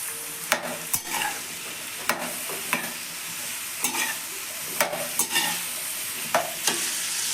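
Carrot, radish and chili pickle vegetables are stirred in a pan, a spoon knocking and scraping the metal in irregular sharp clicks over a soft background sizzle; close and quiet, without speech.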